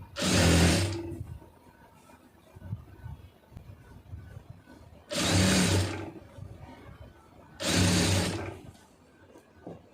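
Three separate bursts of a sewing machine stitching the cross piece of a blouse run a second or so each, loud and close, with quiet pauses between runs.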